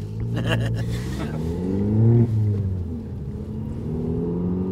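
A car engine revs up and back down, pitch rising then dropping, close by with some background noise; no clear talk.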